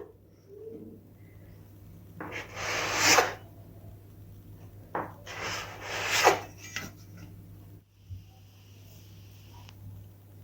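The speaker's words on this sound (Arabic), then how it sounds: "هسه عندنا هاي العجينة راح اقطعها" Dough for Iraqi stone-oven bread being cut on a floured surface, heard as two longer rasping scrapes and a shorter one, close and moderately loud over a steady low hum, with no talking.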